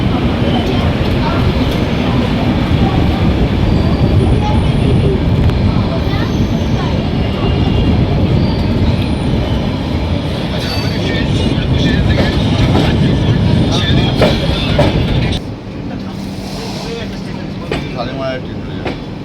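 The Jagannath Express with ICF coaches runs along the track, a loud continuous rumble and rattle from inside the train with rhythmic clicking of wheels, steady for most of the stretch before dropping to a quieter hum near the end.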